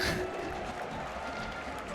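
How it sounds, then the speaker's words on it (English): Audience applauding at a Super Smash Bros. Melee esports tournament, a brief wash of clapping and crowd noise that fades under a commentator's voice. "Can we give it one round of applause for Jmook?"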